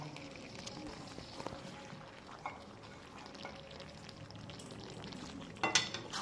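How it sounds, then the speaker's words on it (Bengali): Vegetable chorchori with coriander leaves stirred in a pan on low heat: faint soft frying sizzle with gentle scraping and occasional utensil clinks, a brief louder clatter near the end. "আবারও ধনে পাতা দিয়ে নাড়াচাড়া করে নেব।"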